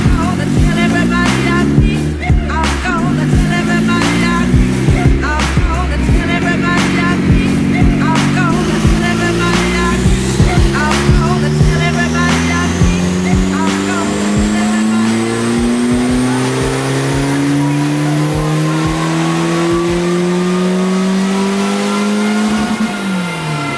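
A turbocharged Honda Civic engine revs hard through a dyno pull, its loud, steady drone sweeping upward in pitch for about twenty seconds, with sharp pops and crackles scattered across the run before the revs drop away at the end.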